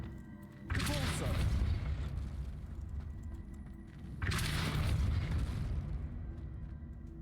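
Two heavy Depulso force-spell impacts from Hogwarts Legacy, each a sudden loud booming whoosh that rumbles and slowly decays, spaced a few seconds apart over quiet background, with speech faintly present.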